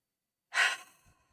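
A single soft exhale blown out through the mouth during a breathing exercise: a brief, close, breathy rush of air that fades within about half a second.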